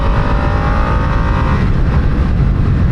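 A Harley-Davidson Nightster motorcycle accelerates hard in sport mode. A loud, continuous engine roar is heard close up, mixed with heavy wind rush and a slight rising pull.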